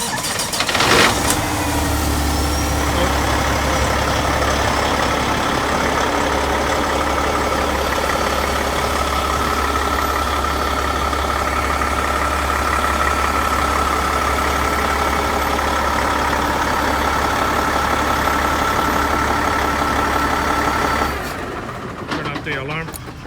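A 2019 Peterbilt diesel truck engine cranks over and settles into a steady, loud idle that rumbles on continuously, then cuts off near the end.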